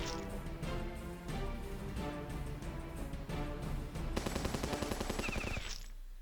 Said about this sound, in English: Come on, click the machine guns.